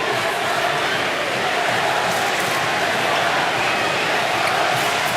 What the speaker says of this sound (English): Very noisy crowd now as they try and lift the Silver Ferns.